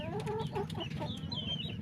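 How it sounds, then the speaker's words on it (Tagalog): Brown chickens clucking close by on a backyard poultry farm, a busy overlapping string of short clucks and squawks over a low steady background rumble. "Yan ang tinatawag na mga brown chicken."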